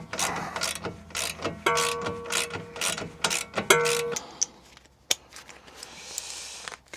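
Rapid ratcheting clicks from a ratchet wrench turning a 19 mm socket on a Dacia Duster 4x4 suspension, in several quick bursts separated by short pauses, close and clear.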